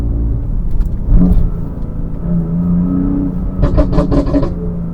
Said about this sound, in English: You've got the pops and bangs. Right, listen to this.